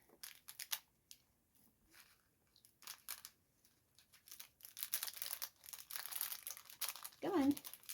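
Scissors snip a corner off a plastic slime packet, a brief crinkly cut among soft rustling handling sounds, fairly close and quiet, with a short voiced exclamation at the end.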